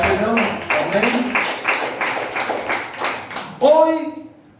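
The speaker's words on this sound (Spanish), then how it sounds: "Denle fuerte ese aplauso al Señor." A Pentecostal church congregation claps for the Lord in a brisk run of distinct handclaps, close and lively, while voices call out and shout over the clapping, ending in a louder vocal burst.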